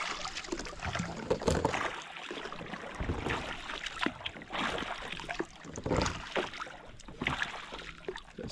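Kayak paddling on water at Khao Sok National Park in Thailand: irregular splashes and dripping strokes, close by, over a steady rushing wash with no talk.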